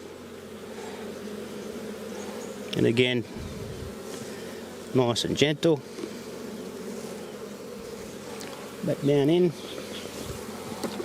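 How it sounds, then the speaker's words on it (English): Honey bees hum continuously around hive frames during an inspection, a low steady buzz close by, with someone speaking briefly in three short bursts over it. "Shake the bees off that last frame, that way make sure your queen's not there"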